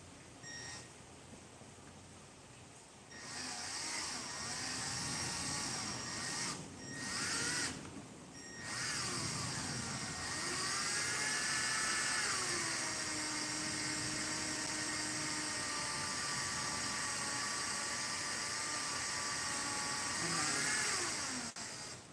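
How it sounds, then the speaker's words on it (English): A small power drill with a small bit whines steadily at close range while working on a Ducati 996 injector or throttle body, pausing briefly a couple of times before running on with a slight shift in pitch. "Drill a little bit deeper with the 2 and then go in with a little bit of 3."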